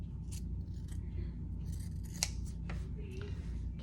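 Scissors snip the corners of a sewn fabric bookmark, a run of short, close, crisp cuts spaced irregularly over a steady low background hum.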